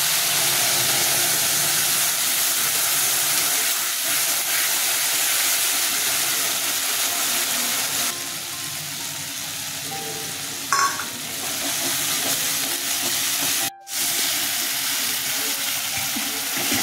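Mustard paste sizzles in hot oil with green chilli and nigella seeds, a steady close crackling hiss that dips briefly near the end, with a short clink partway through and no voices.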